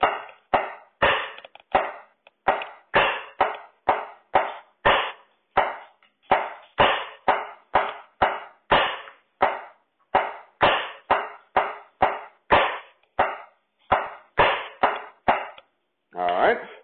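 Steady drum pattern of crisp rim clicks over a bass drum beat, a long run of evenly spaced sharp hits with a brief voice at the very end.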